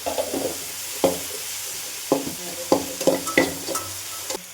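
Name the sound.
stirring ginger garlic paste into frying vegetables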